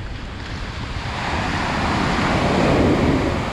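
Strong onshore wind buffeting the microphone over crashing surf before Hurricane Dorian, a continuous loud roar that swells as the waves build, with no talking.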